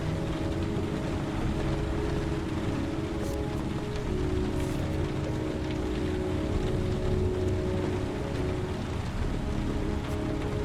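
Steady, dense rain pours throughout a scene in the Heavy Rain video game, a constant loud hiss of drops on surfaces with faint tonal hum beneath and no voices.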